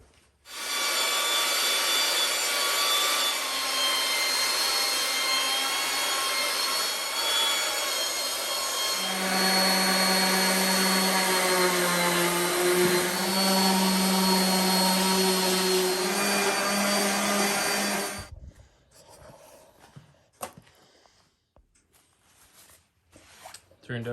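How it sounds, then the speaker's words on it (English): A power sander works across the top of a five-foot cedar log bench, a loud steady whir running nearly twenty seconds with a shift in pitch midway before stopping, followed by faint handling noises. "sand on the top here, I think"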